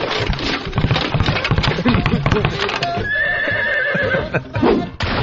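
A horse neighs as a sound effect on a talk radio show, a loud shrill whinny that rises and wavers, amid rapid clip-clopping hooves and a burst of voices.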